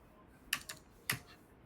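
Three quick, crisp clicks of a computer keyboard sound close and alone in a quiet room.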